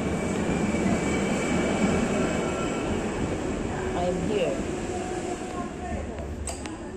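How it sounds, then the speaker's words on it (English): Ambience at Mestre train station in Italy: a steady, dense rumble of trains and station noise fills the whole stretch, with a few faint metallic squeals and clicks near the end. "Ito ang station ng train ng Mestre."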